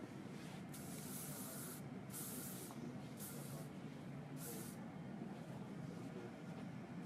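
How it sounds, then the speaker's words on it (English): Several short bursts of aerosol spray hiss, each lasting about a second, separated by brief pauses over a steady background hum. "now we're going to spray"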